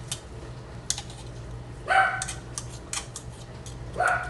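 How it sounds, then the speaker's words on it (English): A dog barks a couple of times at a distance, short sharp yaps around a muffled room with faint clatter in between. "My dog hears noises outside and he just thinks he's large and in charge."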